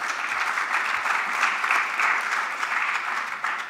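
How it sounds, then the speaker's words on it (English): A breakfast event audience in a room applauds together, steady and dense clapping from many hands holding at an even level for the few seconds heard. "yes, we should all applaud that."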